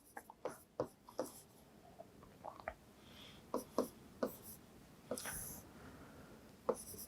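Pen or marker strokes writing out Heron's formula for a triangle's area during a maths lesson, a series of short scratchy strokes in irregular bursts, close and fairly quiet.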